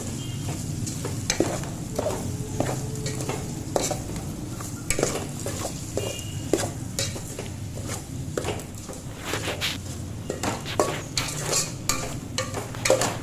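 Chilli powder being stirred into sambar cooking in a pot, a spoon clinking and scraping in an irregular rhythm over a soft steady simmer, close and without talk.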